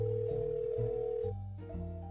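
Telephone ringing on the line in the game Pale Carnations, a sustained electronic ring tone with shifting pitches, heard alone at moderate level.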